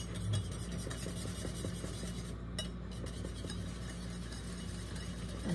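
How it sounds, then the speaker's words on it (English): A whisk stirring ingredients in a bowl, giving continuous soft scraping and light clinking against the sides at a steady pace, fairly quiet and with no one talking. "And I'm going to whisk this up a little bit."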